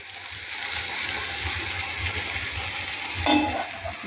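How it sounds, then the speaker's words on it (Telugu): Garelu, lentil vadas, fry in hot oil, giving a continuous bubbling sizzle close by, with a brief louder burst near the end and no talk. "గారె సాయంత్రం కదా, చిడితిండి తినడానికి గారె వేసుకుంటున్నాను"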